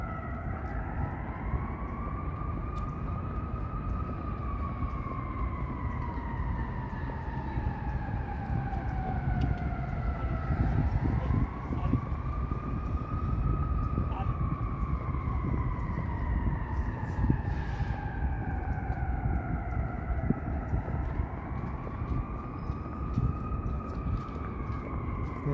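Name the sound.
fire truck sirens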